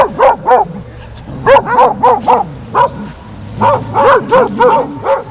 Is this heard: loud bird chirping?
no